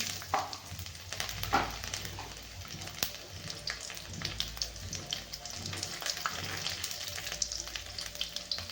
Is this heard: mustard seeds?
yes